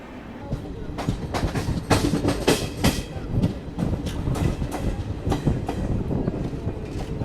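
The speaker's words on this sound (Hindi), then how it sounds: "अब ये कौन सी ट्रेन क्रॉस हो रही है बिल्कुल आइडिया नहीं है।" Another train rushes past alongside the Garib Rath express from Chennai to Delhi, loud rhythmic clickety-clack of wheels over rail joints and rattling wagons pounding close by for the whole stretch.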